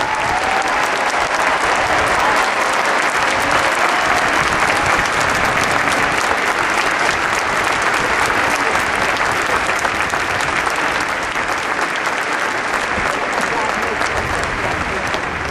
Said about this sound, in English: give a round of applause for the outstanding leadership of Dr. Charles Steger